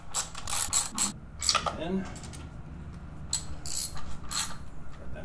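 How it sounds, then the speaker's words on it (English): A 7/16 inch socket on a ratchet tightens the breather bolts on a Harley-Davidson throttle body, giving bursts of rapid clicking ratchet strokes close by, separated by pauses, with a brief spoken word. "Again, we're using a 7/16 inch socket on there."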